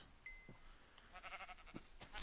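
Sheep bleating in the video game Minecraft, a brief high tone followed by a wavering harmonic bleat and a couple of softer calls, moderately faint against a quiet background.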